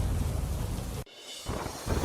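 Heavy monsoon rain pours down on an expressway near Vadodara, Gujarat, a dense steady roar with thunder rumbling beneath it, broken by a sudden near-silent gap before the downpour surges back loudly.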